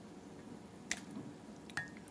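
Soup is ladled from a crock pot into a big soup mug, giving two soft wet splashes and drips in an otherwise quiet kitchen.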